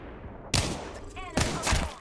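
Gunfire in Apex Legends: two loud close bursts of shots, the second longer and rattling, with quieter game sounds between them.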